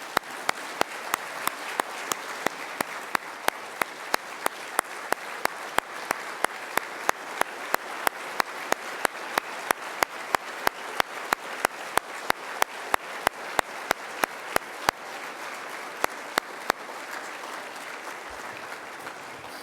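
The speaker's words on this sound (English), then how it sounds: "Please give them a round of applause." At the Soldier of the Year award ceremony for Staff Sgt. David Quay, a crowd applauds the fallen soldier's parents and sister, a sustained wash of clapping punctuated by sharp, regular beats that continues for almost twenty seconds.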